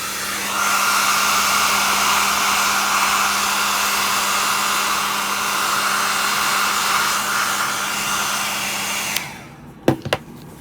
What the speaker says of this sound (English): Here's my hair dryer. Let me put it on warm setting, and it's going to be noisy